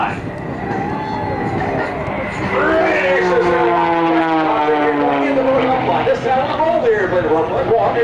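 The 340-horsepower engine and propeller of an Ultimate 20-300S aerobatic airplane drones loudly at an airshow, its pitch sliding and shifting as it maneuvers, while a voice talks over it.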